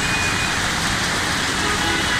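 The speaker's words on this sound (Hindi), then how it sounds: "बारिश फिर से तेज़ हो चुकी है।" Heavy rain pours in Mansehra during a stormy May day, a dense, loud and steady hiss of drops hitting surfaces throughout, with no voices.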